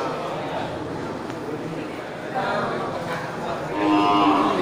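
A female water buffalo calf, offspring of a kerbau kling cow, lets out low lowing moos at a livestock sale, rising near the end, while people talk over the farmyard background.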